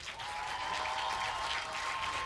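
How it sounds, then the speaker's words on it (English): Audience applause at a women's skeet shooting World Cup event in Nicosia, a steady wash of clapping from a crowd that holds at an even level for the whole stretch with no voices. "Applause!"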